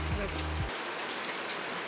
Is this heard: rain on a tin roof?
yes